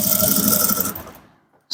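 A sewing machine stitches along the seam of a male senator top. It gives a steady, fast whirring run of about a second, then winds down into quiet, with no talking.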